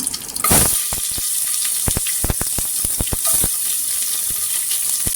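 A sudden loud sizzle as chopped onion hits hot oil, then steady frying crackle with sharp pops and spatters scattered throughout, close up.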